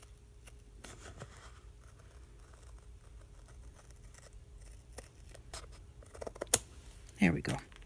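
Scissors make a few crisp snips while cutting a straight line in paper for a budget journal project, faint and close over a quiet room. A louder rustle and a thump come near the end.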